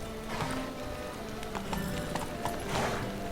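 Horse hooves clip-clopping in the video game Witcher 3, a steady trotting rhythm heard close over a busy in-game ambient backdrop, with a faint whinny mixed in.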